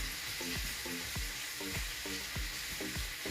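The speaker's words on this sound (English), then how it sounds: "Usually I just put the meat on the side and then saute the onions and garlic" Onions and garlic sautéing in a pan for a Filipino pork and vegetable dish: a steady, close sizzle runs throughout, punctuated by regular scraping stirs every half second or so.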